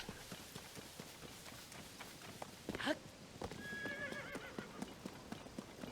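Horse hooves clip-clop and a horse neighs in the video game Zelda Tears of the Kingdom. The hoofbeats are steady and quiet, with one brief whinny partway through and no talking.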